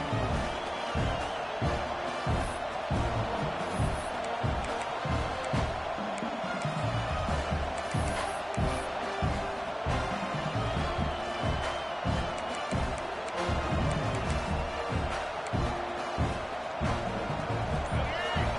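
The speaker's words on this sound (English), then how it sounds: "This offense trying to quiet the crowd on 1st and goal, and they are not cooperating." Loud, dense crowd roar from a college football stadium as the Gamecocks face 1st and goal late in a 7-point game, a sustained wash of cheering and noise throughout with no break.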